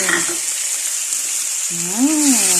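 Shrimp dropped into a hot pan with tomato for adobong sitaw, giving a steady, close frying sizzle that runs throughout, with a brief voice-like tonal sound near the end.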